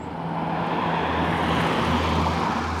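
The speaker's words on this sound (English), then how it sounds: "Excuse the cars." Cars pass steadily along a village road beside an old pub and its 1800s stable block in Ufford, a continuous close traffic rumble with a low engine hum throughout.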